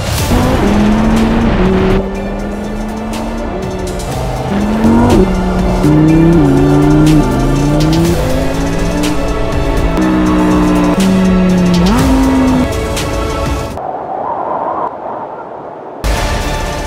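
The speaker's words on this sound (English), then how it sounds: "Driving Lamborghini Hurricane in Black Mountain Pass with my son is a priceless memory for me." A Lamborghini Huracan sports car drives Black Mountain Pass in Wales, its engine note rising and falling steadily through repeated revs and shifts, then cutting out briefly near the end.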